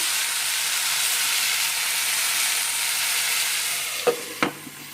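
Tomato pieces going into a brinjal curry frying in a pan, giving a steady broad sizzle with hiss that eases slightly, then two short sharp stirring knocks near the end.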